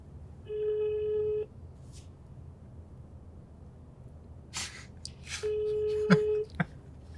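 Ringback tone of an outgoing phone call: two long, steady electronic beeps about a second each, separated by a quiet gap with a few soft rustles and clicks, heard close and alone without talk.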